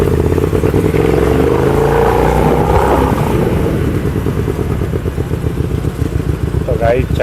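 A Hyosung motorcycle sets off on a long ride, its engine close and loud, revving up in a rising sweep early on before settling into a steady, clattery run.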